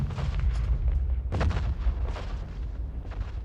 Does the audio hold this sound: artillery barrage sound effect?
yes